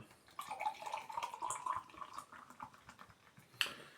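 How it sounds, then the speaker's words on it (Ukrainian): Morshynska mojito-flavoured lemonade is poured into a second glass, a faint close liquid trickle with a rising gurgle, followed by a sharp clink near the end. "ну що, пробуємо другий стакан наливати"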